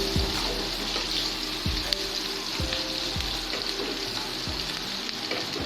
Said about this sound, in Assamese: ইয়াতে ইলাচি আৰু ডালচেনি দি লৈ এয়া মই ৰঙাকৈ পিঁয়াজখিনি ভাজি ল'ম